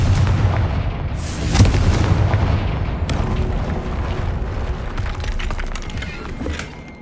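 A Confringo fire spell blast in the Hogwarts Legacy video game, a heavy booming burst up close with a sharp peak near the start and a rumbling, crackling tail that stays loud throughout.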